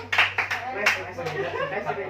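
A few people in a small group session clap in short scattered bursts for the winning side, close by, mixed with talk and a little laughter over a low steady hum.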